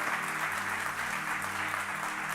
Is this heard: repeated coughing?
no